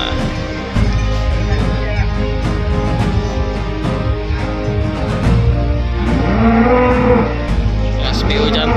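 Male PO (Ongole crossbred) cattle at a livestock show in West Sumatra, several loud, close, drawn-out moos and lows over a busy background.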